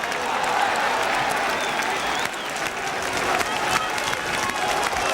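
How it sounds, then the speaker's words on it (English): Generous crowd applause at a 1971/72 QPR v Millwall football match, a steady loud wash of clapping from the stands throughout with faint voices mixed in. "But generous applause for 2 good sweeping moves there by Queen's Park Rangers."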